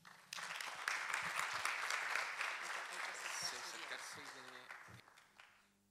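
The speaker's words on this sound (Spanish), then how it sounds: "Un fuerte aplauso," A conference audience at labor law sessions in Puerto Montt gives a dense round of applause that starts abruptly, holds steady for several seconds and then fades, with a voice speaking near the end.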